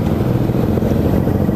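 A motorcycle engine runs steadily, a loud, close, continuous rumble throughout, with no talk.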